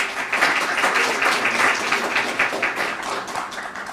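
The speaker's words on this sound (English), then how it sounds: "Let's give them another round of applause." Conference audience giving a round of applause for a panel, a dense, steady wash of clapping that stays strong throughout and tapers slightly at the end.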